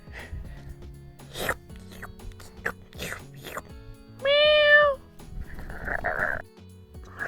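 A cartoon cat in a video game lets out a single loud, drawn-out meow lasting about half a second, set amid clicks and sound effects of gameplay, with no talking over it.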